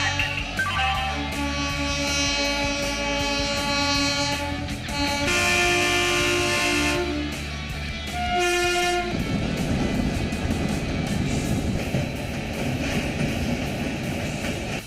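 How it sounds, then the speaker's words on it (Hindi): Puri–Ahmedabad Express passenger train on the move, a loud sustained horn blaring for several seconds before giving way to the steady rumble and rattle of the carriages, with no talking. "इस वक्त हम पूरी अहमदाबाद एक्सप्रेस में हैं"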